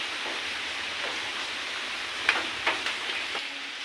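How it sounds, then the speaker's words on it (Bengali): Steady rain hiss fills the scene, with a few sharper drip or splash ticks near the middle; no talking. "ও মা বৃষ্টি যাই নামছে"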